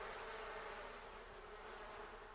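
Bees buzz steadily in a dense, continuous drone that holds at an even level throughout, with no talk over it.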